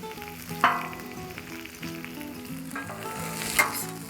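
Diced lunch-meat ham and sausage fry on a Blackstone griddle with a steady close sizzle, broken by a few sharper scraping stirs near the start and again toward the end.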